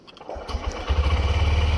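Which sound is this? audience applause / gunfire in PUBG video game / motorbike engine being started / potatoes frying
motorbike engine being started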